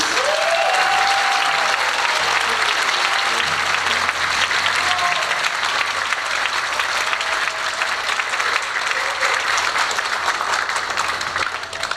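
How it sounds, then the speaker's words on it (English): Concert audience in a high school hall gives sustained, loud applause for the chorus and orchestra at a ninth-grade concert, with scattered cheers and whistles rising above the continuous clapping throughout. "can we give a big round of applause to our chorus and orchestra members?"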